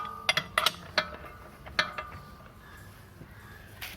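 Metallic clicks and ratchet-like clinks as a nut and washer are tightened on the brake drum of a TVS Scooty scooter, sparse irregular taps close by with quiet gaps between, without speech.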